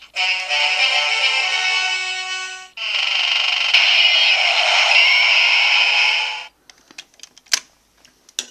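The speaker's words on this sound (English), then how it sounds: "that is the wake up sound for Arc to turn into his power up form, Legend Arc" A DX Arc Kivat toy with its Fuestle plays an electronic wake-up sound, two long loud buzzing tones back to back, followed by a few sharp plastic clicks and taps.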